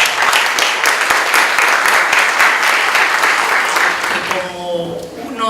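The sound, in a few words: conference audience applause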